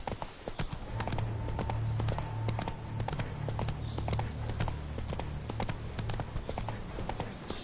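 Roach the horse in Witcher 3, hooves clip-clopping in a steady trotting rhythm close by, loud and continuous for several seconds, with a low engine-like rumble beneath.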